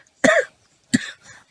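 Two loud, close coughs from a person, the first harsh and full, the second shorter and followed by a faint trailing breath, with silence between them.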